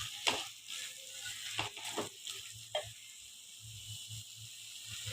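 Chili powder being stirred into a brinjal and potato curry in a pan, with a soft sizzle under repeated scraping strokes of a spoon and a few sharp clinks.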